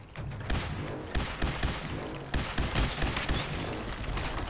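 Gunfire in Fallout 4 on the Far Harbor expansion, a dense run of loud, fast shots with a thudding low end, continuous over a few seconds with no talk.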